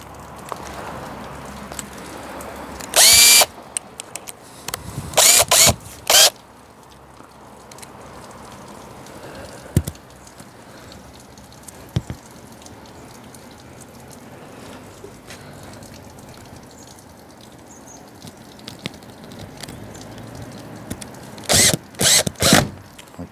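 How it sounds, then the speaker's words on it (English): A power drill drives a self-tapping screw into a hot tub cover lifter in a few short, loud whirring bursts separated by quiet stretches and faint handling clicks, with no talking. "Put the self-tapper in."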